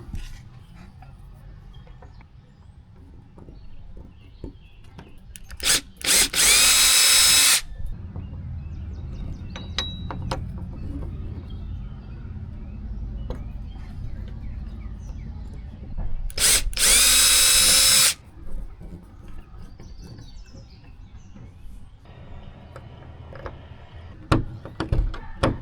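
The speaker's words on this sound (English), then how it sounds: "use the bracket to drill my holes on either side" Two loud bursts of a power drill, each a few seconds long, drilling mounting holes through a bracket on a golf cart, separated by quieter handling noises and light clanks.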